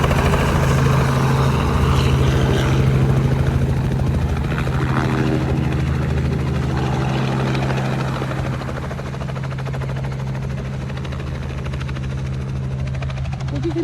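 A helicopter's heavy rotor thumping and engine roar fill the air, loud and close, fading slightly toward the end.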